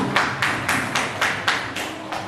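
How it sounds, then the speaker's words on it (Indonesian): Scattered applause from a group honouring a participant in an online teacher training session, rendered as a series of about eight regular broadband bursts, fairly close and steady, with no talking over it. "Tepuk tangan dulu untuk Pak Lili ya"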